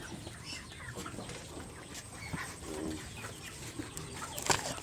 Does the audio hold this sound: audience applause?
no